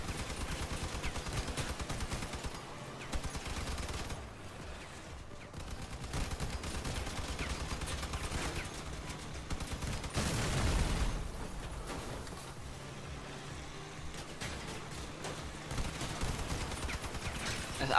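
Vehicle weapons firing in the combat car game Crossout, repeated gunfire bursts and booming impacts spread across the stretch, with rumbling engines between the shots.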